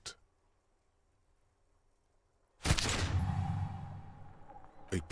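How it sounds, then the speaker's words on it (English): After a quiet stretch, a single loud gunshot from the video game Disco Elysium cracks out and rings into a lingering rumbling tail, followed by a fainter sharp hit at the very end. "A plume of smoke and fire erupts from the gun, and your hand goes numb from the explosion."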